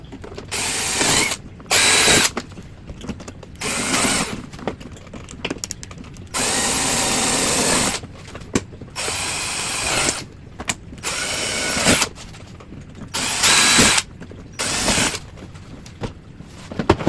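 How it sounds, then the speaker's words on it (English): Power drill pre-drilling screw holes to anchor down an enclosure during a cage conversion, heard as repeated loud whirring bursts of a few seconds each, separated by short pauses, with ratcheting mechanical clicks. "Now we'll pre-drill the rest of the holes and finish anchoring it down."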